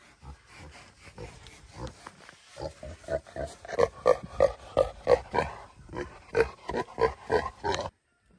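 A pig named Billy grunts in a farm pig yard, a run of short rhythmic close-up grunts growing louder and more rapid, with faint background noise between them.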